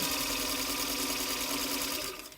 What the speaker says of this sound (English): now I'm coming to the end of my line of quilting